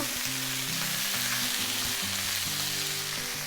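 Chopped vegetables sizzle loudly in a hot pan while cooking a Polish rib stew, a steady dense frying hiss throughout with background music underneath and no talking.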